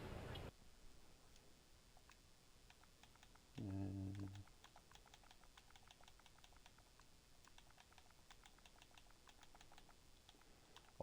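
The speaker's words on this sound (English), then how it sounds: "Obviously you can't see me typing in" Steady, quiet keystrokes on a computer keyboard tap away in an irregular patter, with a brief low thump partway through, in a quiet room with no talk.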